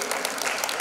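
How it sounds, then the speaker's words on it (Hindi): Audience applause on the Kisme Kitna Hai Dum TV show grand finale, a dense, steady burst of clapping from a studio crowd, briefly filling the moment alone. "जोरदार तालियां"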